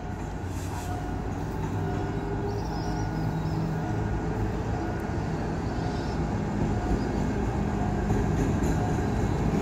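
A light diesel locomotive running alone on a Thai railway gives a steady, loud low rumble and drone, close by and continuous, with no voices.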